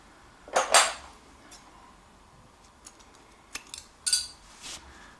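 Scissors snipping through crochet yarn: a couple of sharp, close metallic snips followed by lighter clicks and small handling taps, otherwise quiet.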